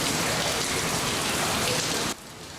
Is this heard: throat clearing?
no